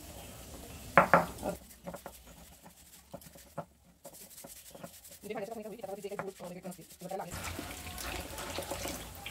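Water runs from a kitchen tap while a new kitchen item is rinsed, with scattered clinks and knocks of dishware in the sink; a voice talks over parts of the washing.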